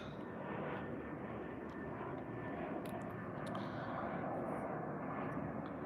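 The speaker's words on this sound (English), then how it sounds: "Plane flying now over." An airplane passes overhead outdoors, a steady, broad roar of engine noise that fills the whole stretch at a moderate distance, with no talk over it.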